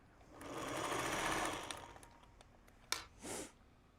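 A sewing machine runs in a quick burst while stitching quilt pieces onto a leader and ender, a steady close whir that fades, followed by a couple of sharp clicks and a short hiss.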